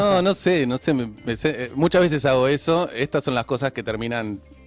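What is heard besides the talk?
No everyday noise stands out behind the speech.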